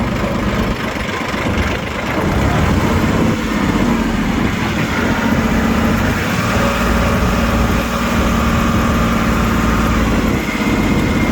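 A Yanmar YM1610 small farm tractor with about 1,123 engine hours idles steadily close by, giving a continuous low diesel rumble with a faint knocking texture and no talk.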